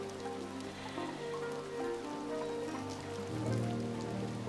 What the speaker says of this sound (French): Ouais, il pleut et Petit Pot il aime pas ça.